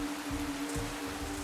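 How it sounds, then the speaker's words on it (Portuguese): Heavy rain falling on a hillside, a dense, steady wash of noise with a low hum underneath, brief and fairly quiet. "Hoje está chovendo bastante."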